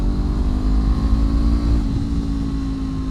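A small starter motorcycle runs at full throttle in third gear at about 36 mph, its engine droning loud and steady with a slight dip in pitch near the middle and no clear acceleration.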